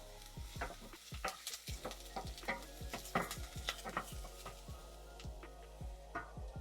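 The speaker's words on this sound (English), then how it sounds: "Saute these about a good 30 seconds to a minute." Diced vegetables sautéing in a pan as the base for a chili, with a steady sizzle under repeated sharp scrapes and clinks from a utensil, close and fairly loud throughout.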